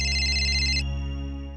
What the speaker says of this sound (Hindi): बीजी, ध्रुव की मम्मी का फोन है।